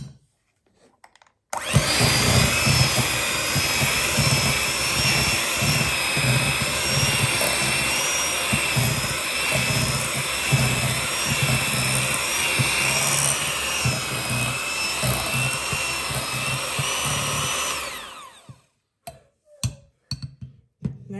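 An electric mixer beats cream cheese with all-purpose flour for a strawberry cheesecake, a loud, steady whirring drone with a whining motor tone that starts abruptly, runs continuously, then cuts off, followed by a few clinks.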